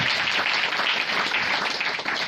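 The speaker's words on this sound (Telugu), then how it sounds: "గట్టిగా చప్పట్లు కొట్టి ప్రభుని మహిమ పరుద్దాం" A Pentecostal church congregation claps loudly in praise, a dense, even wash of many hands that is sustained without a break.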